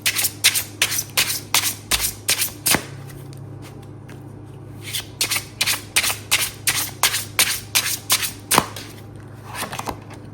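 Slippery tarot cards are shuffled in repeated quick riffling bursts, close and fairly loud, with a short pause midway before the rapid shuffling resumes; no one speaks.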